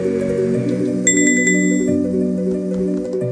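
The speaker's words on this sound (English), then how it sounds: "grab the Grail bell and ring it." A Grail bell rung in a fantasy video game gives a quick run of bright chiming strikes that ring out and fade, layered over a steady sustained background music tone.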